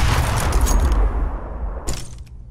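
Loud burst of gunfire from AWP sniper rifles in the video game CS:GO, dense overlapping shots for about a second, then a quieter stretch and another sharp report near the end.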